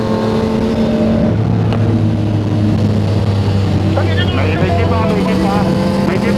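Motorcycle engine passing on a downhill road, a steady loud drone with rising and falling pitch close by, over continuous wind rush.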